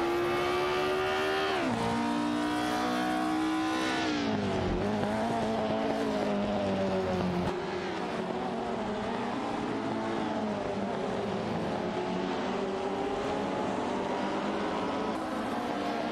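Race cars in an AI racing video game, including a Matra MS7, scream past with steady, high-revving engine whines that rise and fall through gear changes, several cars overlapping in a continuous loud drone.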